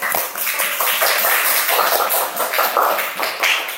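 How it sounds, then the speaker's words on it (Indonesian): Dense, steady applause from a group of students after a class presentation, many hands clapping continuously and fairly close, with no talk over it. "Tepuk tangan untuk kelompok 3"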